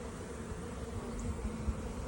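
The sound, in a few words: honeybees buzzing in a hive frame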